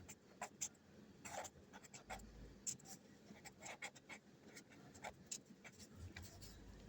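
Pen or chalk strokes scratching out a quadratic equation by hand during a maths lesson, a steady run of short, quiet writing sounds with small gaps between strokes.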